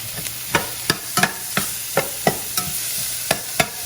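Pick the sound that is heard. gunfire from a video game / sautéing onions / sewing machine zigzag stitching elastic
sautéing onions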